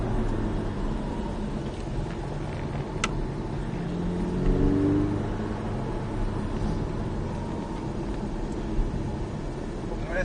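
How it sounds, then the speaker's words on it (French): At full throttle on the Mettet track, a Porsche Cayman 718S Sprint's engine rises through a succession of gear changes, heard from inside the car, fairly loud and continuous, with some faint speech in the background. "Allez, gaz à fond. Troisième. Quatrième. Cinquième."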